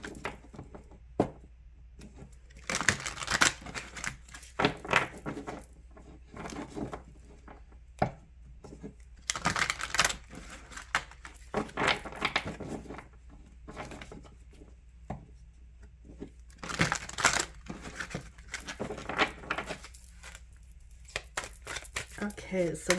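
A tarot deck is shuffled in irregular bursts of papery riffling and soft card slaps close to the microphone, with quiet pauses between rounds and a person talking at times.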